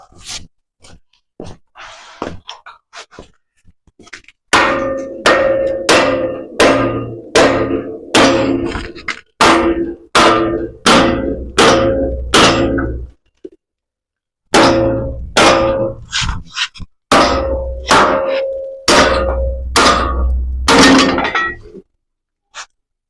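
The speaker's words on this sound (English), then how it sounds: "Gonna have to just persuade it a little bit with the hammer here." Repeated loud metallic hammer blows on a stuck part of a gooseneck trailer ring out in rapid bursts, dozens of sharp strikes with brief pauses between series, close and forceful.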